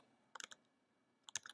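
Two quick bursts of keystrokes on a computer keyboard, each a cluster of a few crisp clicks, close and fairly quiet, separated by nearly a second of near silence.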